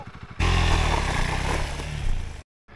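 A KTM enduro motorcycle spins its rear wheel in first gear while pulling away, giving a loud, rough engine roar with gritty scraping that runs for about two seconds and then cuts off abruptly.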